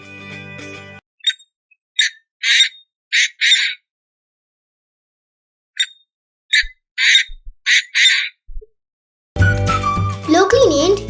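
Several series of loud, harsh, rhythmic squawking calls from a painted francolin come in bursts with silent gaps, followed by a louder stretch of mixed noise at the end.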